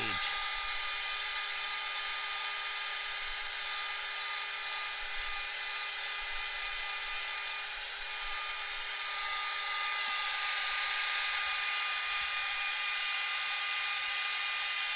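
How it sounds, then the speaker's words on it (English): A heat tool blows hot air over a watercolour page, a loud, steady, close whooshing whine that holds evenly throughout with no break. "Try not to get too close to your page because the heat tool does get really hot"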